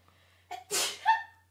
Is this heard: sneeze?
yes